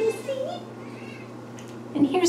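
A pet cat meows indoors, a short voiced call near the start and another rising one near the end, over a steady low background hum.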